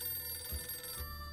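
In the survival game 60 Seconds, a classic telephone rings as a faint, steady electronic trill that carries through the whole short moment and sits low behind a soft hum.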